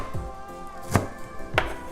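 Knife chopping fresh cilantro on a cutting board, a few sharp close thuds spaced unevenly, with no voices.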